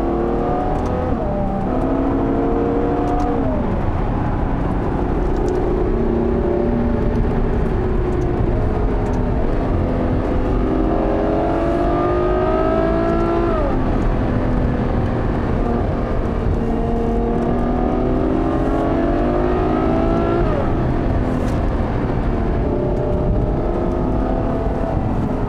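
A Ferrari GTC4 Lusso engine accelerates hard and continuously, pitch rising and falling through repeated gear changes, loud and close with no talking, ending with lost traction.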